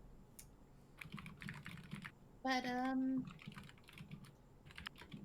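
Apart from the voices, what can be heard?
typing on a computer keyboard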